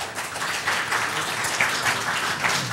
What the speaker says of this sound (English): if we could hold the applause so that the people can respond